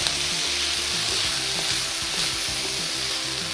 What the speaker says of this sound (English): I'm just gonna mix them around with the onions and heat it till the beans are heated all the way through